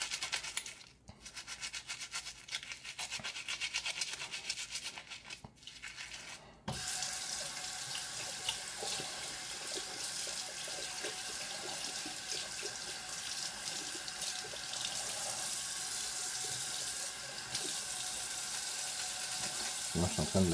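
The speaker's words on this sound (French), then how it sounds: "Moi, je suis en train de laver mon ça." Running tap water splashes steadily into a sink as a safety razor is rinsed, a continuous close hiss that starts abruptly after a few seconds of quieter handling sounds.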